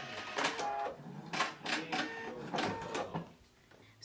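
A sewing machine runs a shirt seam in several short, fast whirring bursts with brief pauses between them, close and moderately loud.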